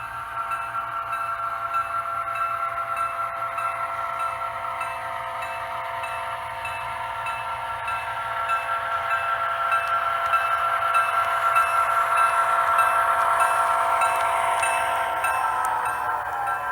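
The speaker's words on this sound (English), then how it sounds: "I'm going to pull the engine set out" A train engine set pulls out of Champlain Yard on the NWV, giving a steady droning engine hum and hiss that holds constant and then swells slightly louder toward the end, with no voices.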